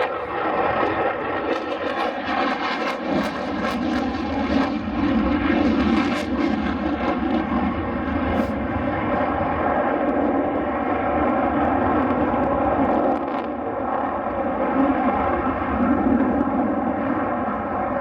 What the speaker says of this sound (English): now Tom's pulling the aircraft round